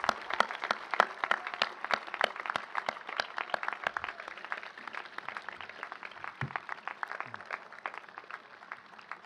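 An audience at the Denison University Class of 2028 induction ceremony claps steadily and densely for about nine seconds, many hands together at a moderate, even level with no talking.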